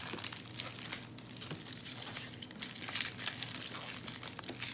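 Close foil trading card packs are torn open and crinkled by hand, a busy stream of crackling and ripping with no talk.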